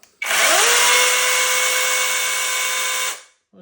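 A Grand cordless battery chainsaw with a 12-inch bar spins up and runs at a steady, fairly quiet whine for about three seconds before cutting off. Nobody talks.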